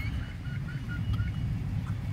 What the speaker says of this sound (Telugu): మామూలు కోళ్ళ కంటే ఇది కొంచెం డిఫరెంట్ జాతి ఉన్నట్టుంది ఇది